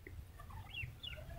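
Ducks wandering into a rabbit cage give faint, scattered calls over a low background rumble, a few short quacking sounds spread across the moment with no speech.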